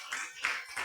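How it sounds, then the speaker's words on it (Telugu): Congregation at a Sunday church service clapping in praise, a few short rhythmic bursts of hand claps. "ఒకసారి యేసయ్యకు చప్పట్లు కూడా దేవుని స్తుతిస్తారా?"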